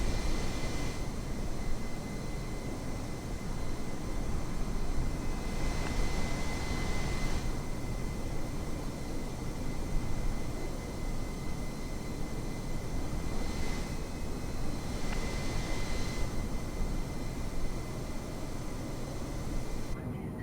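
Airbus A320neo jet engines drone through a climb in Microsoft Flight Simulator, a constant broad roar with a faint steady whine on top, unbroken and even for the full stretch.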